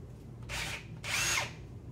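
A power drill whirs in two short bursts close by while drilling a hole in a game controller shell, the second longer, with a faint hum between them.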